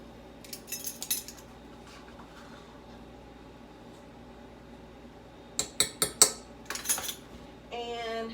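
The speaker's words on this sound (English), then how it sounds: "We're mixing our dry ingredients." Measuring spoons clinking against a bowl while mixing dry ingredients such as baking powder, baking soda and salt for apple nut bread: sparse bright clinks, a faint pause, then a quick cluster of taps and scraping.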